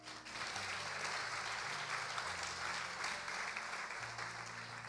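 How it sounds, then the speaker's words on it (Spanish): A church congregation applauding Christ during a sermon, a broad even wash of many hands clapping throughout, fairly faint and steady with a low hum underneath. "¿Cuánto le puede dar un aplauso a Cristo?"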